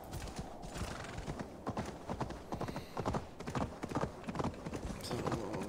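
Horse hooves clip-clopping at a steady trot while riding in the video game Assassin's Creed Valhalla, a dense rhythmic patter close up over ambient game sound.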